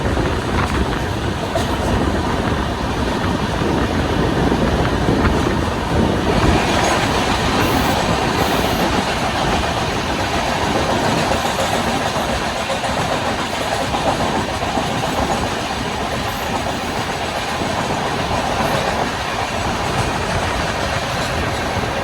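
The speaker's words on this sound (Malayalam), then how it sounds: "നമ്മളിപ്പോൾ ഒരു വണ്ടീനെ ഓവർടേക്ക് അടിച്ചാണ്." Steady, loud rumble and clatter of the Tamil Nadu Express running on the rails, heard from inside the moving train, with continuous wheel noise and faint high squeals and no break for about twenty seconds.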